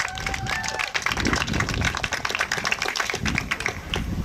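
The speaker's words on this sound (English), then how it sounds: "Give him a round of applause." A group applauds a student at a camp certificate ceremony, with steady clapping throughout and some background voices mixed in.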